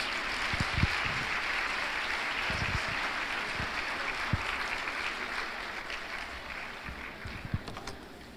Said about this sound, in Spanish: vamos a recibirlo con un caluroso aplauso